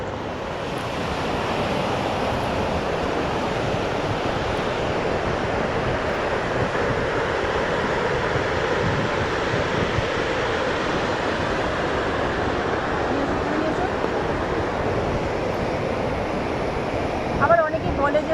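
A constant roar of rushing mountain waterfall water on the Baltal to Amarnath trek, heard from nearby, steady and full throughout with a brief disturbance near the end.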